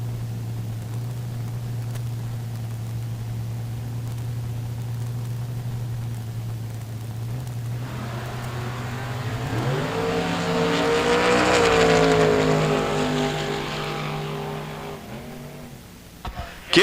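At a drag strip, an Aspen wagon and a Camaro idle at the line, then launch and accelerate loudly with rising engine roar and possible tire noise before it fades, with a faint public-address voice underneath.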